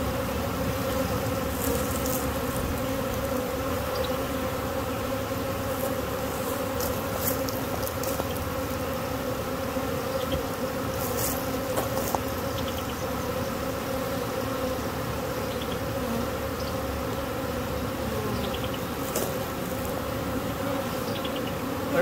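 A swarm of honey bees crowds onto a bucket outdoors, a steady close buzzing drone that holds without pause.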